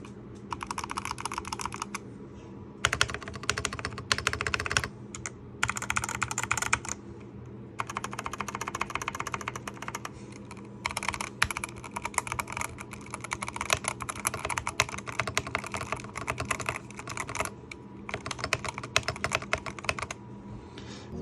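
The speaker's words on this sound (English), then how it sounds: "It's a very deeper sounding keyboard now that I did the tape mod" Steady MAGEGEE mechanical keyboard typing, tape-modded, close and clear, in bursts of rapid clacking keystrokes separated by brief pauses, with a deep, thocky tone.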